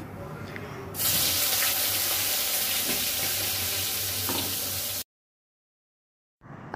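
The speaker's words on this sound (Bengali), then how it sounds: "প্রথমে আমি বড়ি, করলা, বেগুন এগুলো আর কি এক এক করে ভেজে রেখে দিচ্ছি" Lentil dumplings, bitter gourd and eggplant frying one batch at a time in hot oil, a dense, steady sizzle close by that runs for several seconds, then cuts out abruptly before returning briefly.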